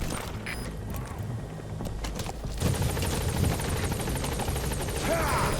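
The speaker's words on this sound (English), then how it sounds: "The chopper will be waiting." Helicopter idling and waiting at an extraction point in Metal Gear Solid 5 in Afghanistan, a steady rotor drone that grows louder midway through, with a rhythmic beating throughout.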